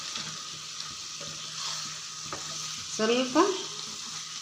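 Chilli chicken sizzles in a pan as pepper powder and garam masala are stirred in, a steady frying hiss with spoon scrapes and clinks growing louder near the end; a voice briefly speaks a word.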